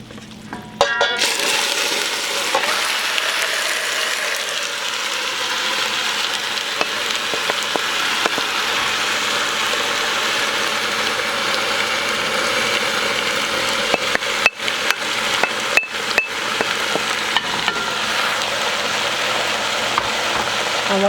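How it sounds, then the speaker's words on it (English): Pork frying in a pot for a buttered cassava and stew pork dish gives a loud, constant sizzle that lasts the whole stretch, with a few sharp clicks and spatters, and no one talks. "I am going to add the pork to it"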